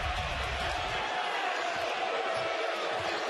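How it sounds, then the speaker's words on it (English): A basketball arena crowd at an Eastern Illinois vs Marquette college game roars in a dense, steady wash of noise against the officials, loud and continuous, with a commentator talking over it. "Crowd starting to get on these officials"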